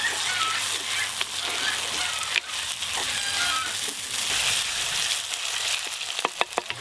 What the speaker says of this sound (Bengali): আদা রসুন পেঁয়াজ ভালো করে তো ভাজা হয়ে গেল